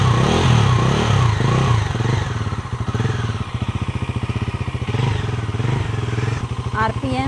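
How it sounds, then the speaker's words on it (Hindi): A Bajaj Pulsar NS400Z motorcycle engine runs steadily near the microphone, its exhaust note pulsing rhythmically through several revs, with a brief rising rev near the end. "एग्जॉस्ट नोट सुनिए।"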